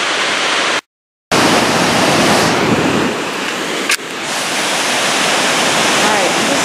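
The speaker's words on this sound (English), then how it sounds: "I just want to show you how powerful it's flying over that. The water flying over that." A powerful Alaskan waterfall near a glacier, heard from a cruise ship, makes a continuous heavy roar broken by a brief cut and a short click, then steady rushing again with no voices.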